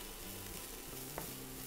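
Carrots and onions sizzle quietly in a pan, a soft steady crackle with an occasional scrape of stirring.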